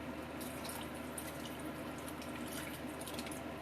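Beef broth poured into a pot of chili, giving a steady, continuous liquid splash and gurgle of moderate loudness without any speech.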